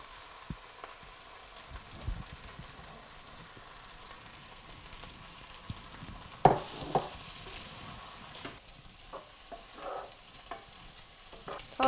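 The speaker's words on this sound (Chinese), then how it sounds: "我哋而家就将啱啱嗰啲饭倒埋落去啦。" Rice stir-fried with onions in oil in a wok: a quiet, steady sizzle broken by scraping and clinking stirring strokes, close up with no talking.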